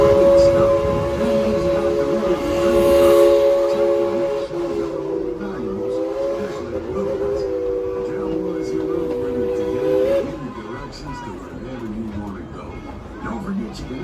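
A heritage steam train at Tweetsie Railroad slows to a stop, its whistle holding a long steady multi-tone blast over rumbling wheels before fading to quieter rolling and clanking, with voices in the background.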